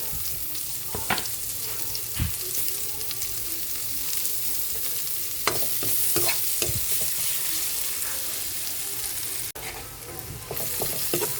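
Onions sautéing in margarine in a pan, a steady close sizzle broken by intermittent scraping and stirring clicks of a utensil, with no talk.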